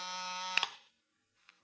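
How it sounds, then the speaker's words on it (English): A desk buzzer in a classic radio drama gives a harsh electric buzz for under a second, then cuts off, followed by a faint click. "It was time for the buzzer on my desk to sound out the call"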